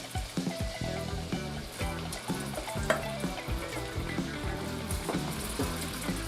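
Shrimp hit a hot pan of pasta sauce and fry with a steady crackling sizzle close by, continuous throughout with faint bubbling and stirring underneath.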